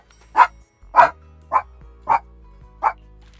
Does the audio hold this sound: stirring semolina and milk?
no